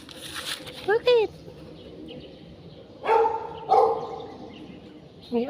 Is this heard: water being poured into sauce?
no